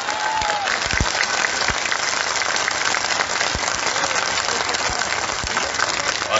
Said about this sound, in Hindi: तालियों की गड़गड़ाहट हो